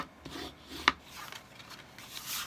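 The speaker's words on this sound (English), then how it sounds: "So I'm just going to fold it on the score line and I'm going to burnish it." Folded cardstock burnished along a score line, soft rubbing strokes with one sharp scraping click, close and quiet.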